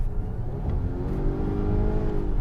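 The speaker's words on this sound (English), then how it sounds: "sounds more like a regular gas engine there" A 2020 Volvo XC90 T8 plug-in hybrid's petrol engine rises in pitch as the SUV accelerates, a muted, smooth hum heard from inside the cabin, building steadily over a couple of seconds.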